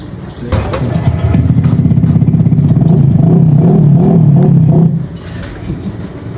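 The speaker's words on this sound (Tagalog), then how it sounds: "May bumabomba ng motor niya." A motorcycle engine revving hard and close, a sustained rough roar with clattering that holds for several seconds, then cuts back to idle.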